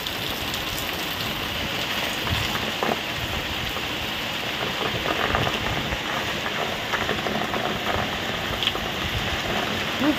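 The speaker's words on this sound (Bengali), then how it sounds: "এই দেখো বৃষ্টি পড়ছে" Steady rain on a stormy night, drumming on palm trees and a rooftop with water running off, a dense continuous hiss with scattered nearby drops throughout.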